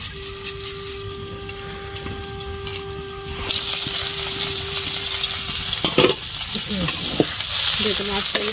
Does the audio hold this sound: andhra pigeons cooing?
no